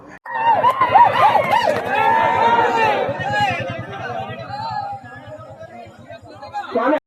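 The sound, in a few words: crowd of people chattering at horse race event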